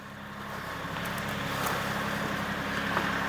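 A tractor engine straining while pulling on an old roof, a steady close diesel drone and rumble that holds at a constant loud level throughout, with faint clanks over it.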